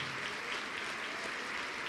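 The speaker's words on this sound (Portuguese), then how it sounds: "Pode aplaudir que é para ele." Applause from a church congregation during a sermon, a steady wash of many hands clapping that fills the whole stretch evenly at moderate loudness with no voice over it.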